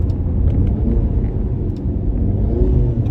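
A Ford Mustang 2.3-liter EcoBoost engine rumbles at a steady idle, deep and close, with a low throaty tone and no talking.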